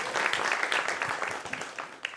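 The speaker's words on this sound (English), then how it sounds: "give yourself a nice round of applause for showing appreciation to our culture" Church congregation at a Sunday service applauding together, a steady dense patter of many hands clapping at moderate distance, fairly soft, with no one talking over it.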